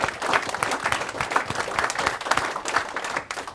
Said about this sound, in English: So I want to applaud everyone here